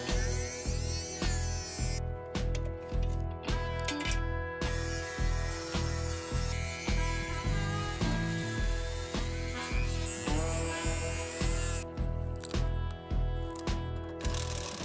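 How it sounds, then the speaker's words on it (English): Step drill bit boring out holes in a metal chassis from a vintage Silvertone tube radio, a rapid run of rhythmic grinding bursts with high metallic whine, loud and close throughout, with brief pauses between cuts. "While enlarging one of the holes, the stepper bit actually got caught"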